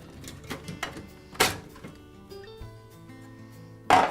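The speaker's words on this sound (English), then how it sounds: "I'll begin by removing the lens from the grill." A plastic lens comes off the grill of a Broan bathroom fan heater, making a series of close, brief plastic clicks and snaps with a louder sharp clack near the end, set against faint background music.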